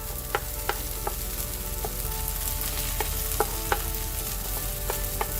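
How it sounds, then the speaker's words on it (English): Tomatoes fry in oil in a pan for an okra and scrambled egg stir fry, a steady close sizzle broken by repeated metallic taps and scrapes of a utensil. "I'm going to cook these tomatoes, fry them nicely for about a minute"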